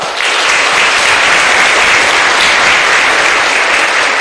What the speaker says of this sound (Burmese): ကောင်းပါပြီလက်ခုပ်တီးအားပေးပါ